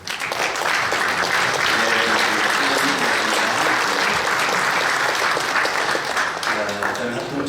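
A church congregation gives sustained, loud applause to welcome visiting denomination leaders during an inauguration thanksgiving service at Seodaemun Church in Korea. The dense clapping holds steady for the whole stretch.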